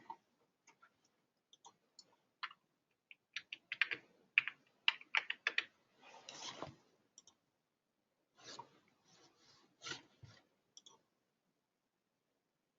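Quiet, close keyboard typing in irregular bursts of clicks and taps, with short pauses between flurries of keystrokes.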